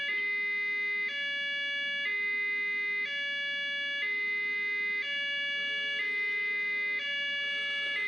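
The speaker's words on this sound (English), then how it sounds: "Siren." A wailing emergency siren, like an ambulance's, sounds loud and continuous, stepping between two tones about once per second for the whole stretch, with no talk over it.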